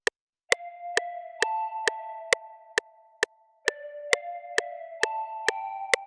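Ambient synth key loop called Crocodile Swamp from a loop bank, played with effects including auto-panning: soft sustained keyboard chords under evenly spaced sharp metronome-like clicks, quiet and clean.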